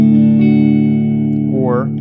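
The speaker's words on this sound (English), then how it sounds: "It's still the front pickup, but it's only one of the coils in this pickup." A Tom Anderson electric guitar with its front pickup split to a single coil sustains a chord through effects, and a sliding note bends near the end.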